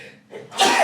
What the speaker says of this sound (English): I'm going to sneeze, I apologize